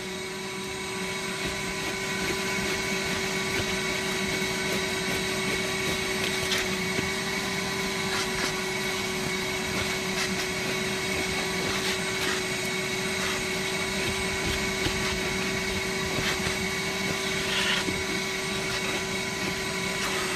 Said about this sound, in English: I went over it with the vacuum and I still have all this stuff left.